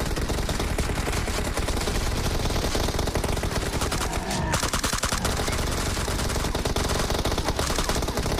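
Dense, continuous rapid gunfire blasts loudly without pause, a constant barrage of automatic shots and explosions from a zombie survival mode battle in BGMI.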